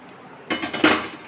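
A metal spoon clinks and scrapes twice against a pan on a switched-off stove while fine gram flour powder is stirred into sugar syrup for besan laddoo, two short, fairly close knocks over a quiet background.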